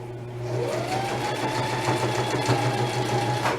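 A sewing machine running steadily while stitching reinforcing seams on tote bag straps, a continuous close motor hum with rapid needle rhythm after a brief start-up.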